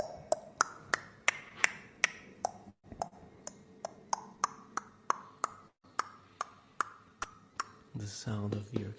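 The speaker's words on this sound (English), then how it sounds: "the sound of your tongue click" Tongue clicks, a series of sharp, hollow pops at varying pitches in a loose rhythm, made up close, with a voice breaking in at the end.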